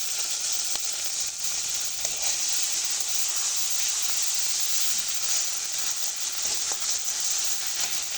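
Prawns with salt, turmeric, green chilli, onion, garlic and cumin paste fry in a pan, producing a steady, even sizzle that carries on alone at moderate volume.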